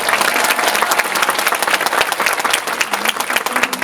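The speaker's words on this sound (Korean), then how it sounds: "일단 크게 박수 한번 치고" A large cinema audience at a Lotte Cinema World Tower special screening event for the film Along with the Gods applauds loudly and continuously, dense steady clapping filling the whole stretch.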